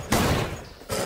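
A gunshot in a zombie shooting video game, two loud, short bursts of broadband gunfire with a brief lull between them, close and punchy, with no talking.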